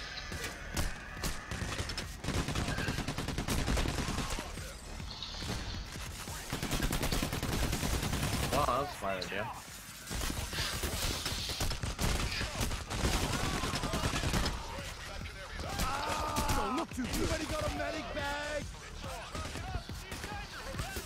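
Video game gunfire in PayDay: The Heist, rapid automatic bursts and scattered shots fired in repeated volleys over about twenty seconds, with players talking over the shooting.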